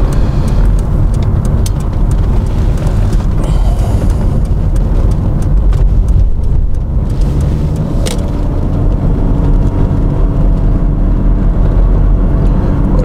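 Jaguar XJS engine running steadily while the car drives along, a constant low rumble with road and wind noise, close and loud, no voices.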